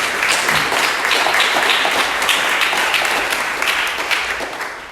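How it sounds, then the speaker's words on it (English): Audience applauds a speaker at a real estate investment talk, dense steady clapping throughout that tapers off in the final second. "Give him a round of applause, guys."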